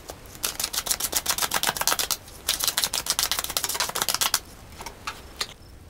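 Tarot cards are shuffled and drawn from a deck during a reading. Rapid, close riffling clicks come in two long bursts, followed by a few softer scattered card sounds, with no voices.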